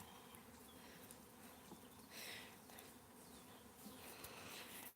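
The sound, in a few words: honeybee swarm around a hive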